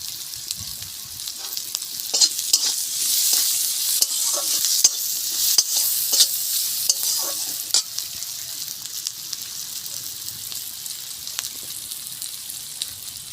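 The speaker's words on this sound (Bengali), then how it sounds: "পেঁয়াজগুলো আমার ভাজা হয়ে গেছে" Onions fry in a pan with a little salt, giving a bright, close sizzle broken by repeated scraping stirs that are strongest in the first half, then a quieter, steady frying hiss.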